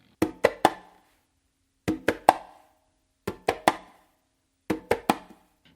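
A conga tumbao pattern of bass, palm slap and close slap is played in four crisp groups of three hand strokes, evenly spaced, close and dry with silence between groups.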